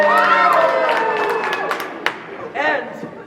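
A theatre audience applauds and cheers for John Jasper during a stage performance of The Mystery of Edwin Drood, loud at first and then fading. Voices shout and talk over the clapping.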